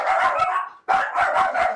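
Security dogs bark in two rapid bursts of loud, close yaps with a brief gap between them and no talk over them.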